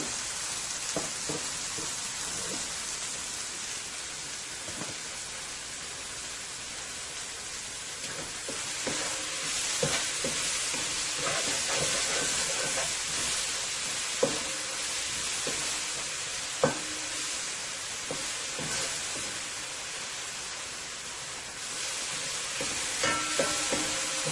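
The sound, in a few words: fish frying in oil for fish and chips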